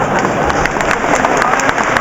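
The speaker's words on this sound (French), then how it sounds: "Non, applaudissez pas, c'est pas drôle." Lecture audience at a conference hall applauding, a dense wash of many hands clapping continuously and fairly loud throughout, with scattered crowd noise mixed in.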